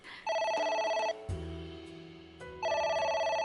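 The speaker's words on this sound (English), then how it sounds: "It won't stop ringing." Electronic telephone ringing in the video game AI: The Somnium Files: two loud bursts of rapid trilling rings separated by a quieter pause with low background tones.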